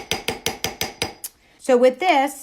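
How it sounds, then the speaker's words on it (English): Ball peen hammer striking a metal ring blank during hand stamping, seven quick sharp ringing taps in steady rhythm, followed by brief speech. "I'm gonna take, again, my ball peen head, and I'm just gonna go around the outskirts of it."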